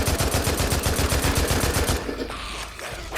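Rapid automatic gunfire from a smaller gun in the Days Gone zombie game, a dense rattling burst of evenly spaced shots for about two seconds, then cutting off into quieter game ambience.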